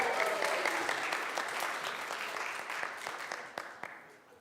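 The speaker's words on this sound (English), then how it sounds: "round of applause for Hilda." An audience at a live church service applauds for Hilda, a dense, even patter of many hands that gradually fades over several seconds.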